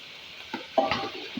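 Chicken noodles and long strips of capsicum stir-fried in a pan, a brief close sizzle punctuated by a few quick scraping stirs, short and fairly quiet, with no talking.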